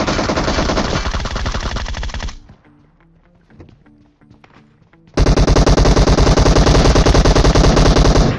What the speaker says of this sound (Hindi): लेकिन तभी पीछे से फायरिंग आती है